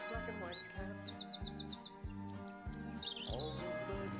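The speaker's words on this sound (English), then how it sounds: "All the birds are singing." Cartoon birds chirp and tweet in quick, repeated high trills over a bouncy, rhythmic musical backing that pulses along underneath.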